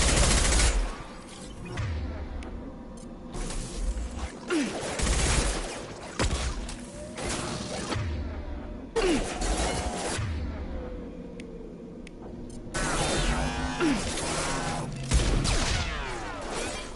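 Gunfire in Mass Effect 2 erupts in several separate bursts of rapid shots, loud and close, broken by quieter gaps with whooshing effects and faint background game sounds.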